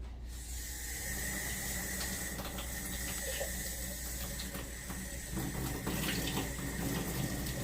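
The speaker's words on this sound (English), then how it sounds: "I will be using a paper towel to open the faucet" A faucet runs steadily into a basin as water is drawn for a nursing-assistant foot soak, a constant close splashing hiss with no talking.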